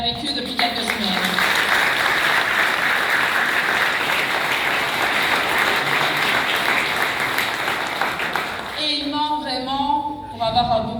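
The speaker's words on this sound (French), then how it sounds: "je demande vraiment de les applaudir" A crowd applauds at a Socialist Party campaign launch event in Verviers, sustained dense clapping lasting several seconds before fading as a voice begins speaking near the end.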